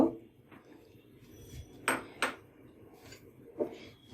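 Boiled, drained sago being stirred in a pot for palm fruit payesh, heard as a few sharp metallic clinks and scrapes of a spoon against the pot, fairly faint, with quiet gaps between them.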